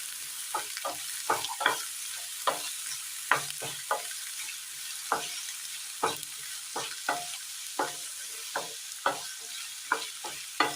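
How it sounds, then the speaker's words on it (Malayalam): Chopped onions sauté with green chillies in a pan, a soft steady sizzle broken by repeated sharp scrapes and taps of a spoon stirring at an even pace. "സബോള അരിഞ്ഞത്, നല്ലതുപോലെ ഒന്ന് വാട്ടിയെടുക്കാം"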